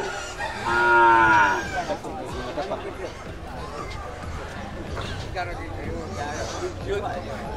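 Cattle mooing on a Filipino farm roadside, a couple of drawn-out low calls standing out early, then fainter animal sounds mixed with chickens clucking and people talking throughout.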